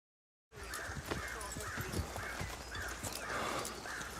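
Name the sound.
horse neighing and hooves in Game of Thrones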